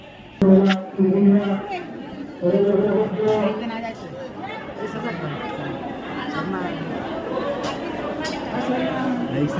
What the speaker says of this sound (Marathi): काय गर्दी आहे.